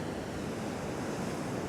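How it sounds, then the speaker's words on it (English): Backlit ocean waves crash continuously on the coast at sunrise, a steady broad roar of surf with some wind noise on the microphone, close and loud with no voices. "Backlit waves crashing, might be alright."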